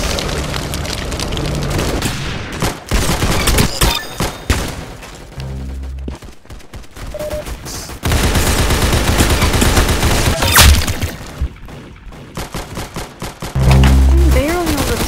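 Loud, dense gunfire from the Arsenal video game: rapid crackling shots, bursts and booming impacts packed together almost continuously, with heavier thuds at moments and a game voice mixed faintly underneath.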